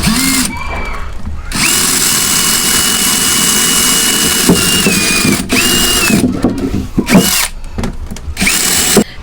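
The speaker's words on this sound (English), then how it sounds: "Here comes my trusty cone bit." A power drill fitted with a cone bit drills holes, giving a loud, high whine in long sustained runs broken by short pauses and rising and falling pitch as it cuts.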